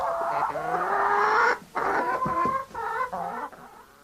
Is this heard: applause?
no